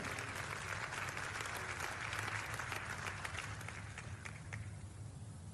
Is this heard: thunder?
no